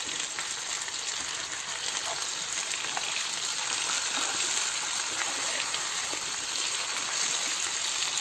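Pomfret fish frying in oil on a flat tawa, a dense, steady sizzle and crackle filling the whole stretch, close and loud.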